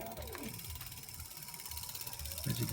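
A fat e-bike hub motor turning as the throttle is twisted, a quiet continuous mechanical whir with faint ratcheting clicks, swelling slightly near the end, no speech.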